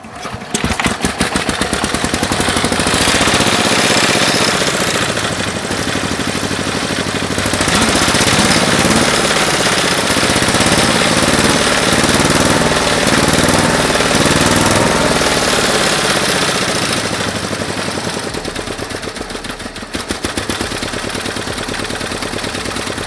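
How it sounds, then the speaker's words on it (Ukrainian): A Forte 8 hp walk-behind tractor engine runs loud and close, a continuous rapid rattling chatter that holds steady with slight changes in pace and no voices over it. "Ось так працює на даний момент мій тяжкий мотоблок Forte 8 кінських сил."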